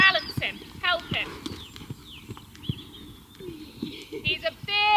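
A big horse trots around an arena with a steady two-beat clip-clop of hooves, close and clear, while birds chirp in the background.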